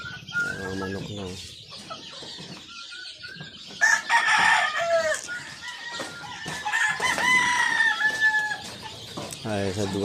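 Chickens and roosters at a game farm in Canlaon, Negros Oriental, clucking with several clear crows, close and moderately loud, over low background chatter and faint voices.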